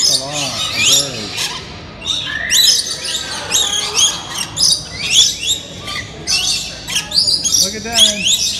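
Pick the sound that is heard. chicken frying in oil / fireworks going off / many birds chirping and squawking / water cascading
many birds chirping and squawking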